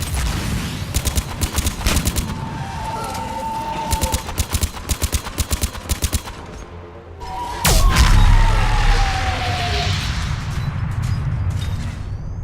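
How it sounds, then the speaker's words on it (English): Harvester gunfire in Mass Effect 3, rapid bursts of heavy sci-fi weapon shots in rhythmic volleys, followed by a loud blast and deep rumbling roar with a descending whine, no talk. "Harvesters firing on the turian!"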